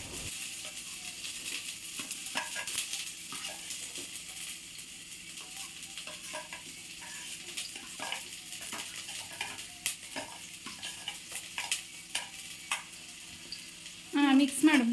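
Onions frying in a pan for egg Maggi, stirred with a utensil that scrapes and clinks repeatedly over a soft steady sizzle, with a brief louder clatter at the end.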